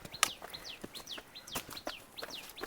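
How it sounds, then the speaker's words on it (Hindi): Several birds chirp and tweet in quick, repeated bright calls at Sanjivani Bet, Latur district, India, fairly close, with sharp clicks scattered among them. "आवाज देखो ना चिड़ियों की।"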